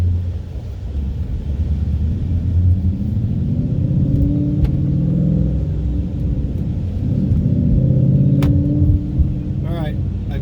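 A car fitted with a BMR IRS lockout kit rumbles steadily from inside the cabin on a first drive, its engine droning low and continuous with mild swells, without any sharp launch surge.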